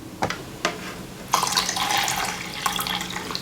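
Cool water is poured into a mug, a few light knocks first, then a splashing, bubbling pour that runs for a couple of seconds and tails off with a final splash, close by.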